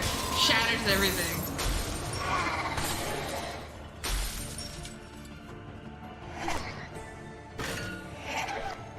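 Glass shattering from a wind power attack in a video game, several sharp crashing bursts with tinkling debris spaced a couple of seconds apart, heard under ongoing talk.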